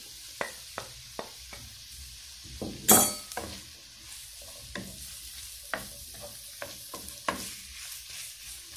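Onions frying in a pan give a soft, steady sizzle, broken by a string of light scrapes and clicks as a utensil stirs them, with one louder clatter partway through.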